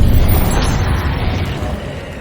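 A Bombarda spell explosion in the Hogwarts Legacy video game: one loud, close, booming burst that rumbles and slowly fades over about two seconds, with no talk.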